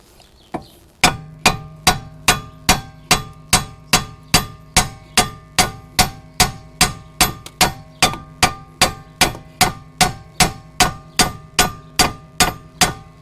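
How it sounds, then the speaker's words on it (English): A hammer strikes a 2011 Chrysler 200 lower control arm suspension part in a steady, even rhythm, about two loud ringing blows per second, repeated more than twenty times with nothing else heard. "Now it's time to hit it with the hammer and get it out of here."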